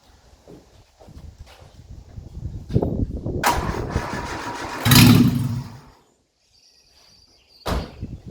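A Ford Escort MK2 with a freshly rebuilt engine cranks and catches, building into a loud, rough running rumble for a few seconds before cutting off, followed by a brief knock.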